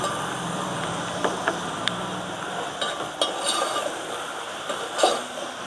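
Onions fry with salt in a pan for a gongura prawn curry, giving a steady close sizzling hiss broken by a few light clicks and scrapes of stirring. No one speaks.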